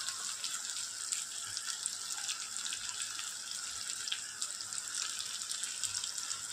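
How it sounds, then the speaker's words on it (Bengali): A little water poured into turmeric, cumin, coriander and chili powders frying in a pan for mutton masala curry, producing a soft, steady hissing sizzle with faint bubbling, fairly quiet, no voices. "অল্প জল দিয়ে দেব।"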